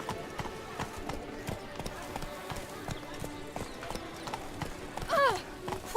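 Horse hooves clip-clop in a steady trotting rhythm in The Witcher video game, with a brief neigh near the end and a voice speaking over the footsteps.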